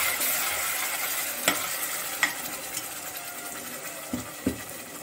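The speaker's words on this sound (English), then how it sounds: "Allow it to fry in the oil for some time." Curry leaves, sambar powder, tomato and tamarind fry in oil for saaru, a close steady sizzle broken by a few sharp clinks of stirring.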